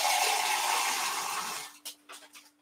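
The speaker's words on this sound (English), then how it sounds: "I'm just gonna add some liquid to it, water." Water poured into a juicer for a celery and green apple juice, a loud steady rushing pour that stops abruptly and is followed by a few short splashes.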